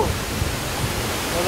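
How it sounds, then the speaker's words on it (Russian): Sekumpul waterfall in Bali gives a dense, continuous roar of powerful falling water, loud and unbroken over a brief moment. "Подходя все ближе к водопаду, начинаешь слышать его могучий шум и чувствовать капли воды на ресницах."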